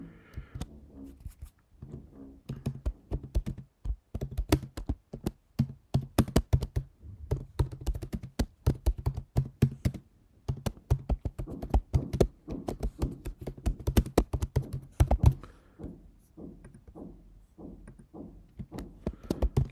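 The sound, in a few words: typing an address on a computer keyboard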